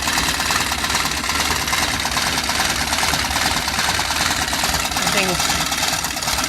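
An antique sewing machine, lately freed after being seized, runs with a fast steady mechanical clatter, close and continuous, while a voice speaks briefly over it.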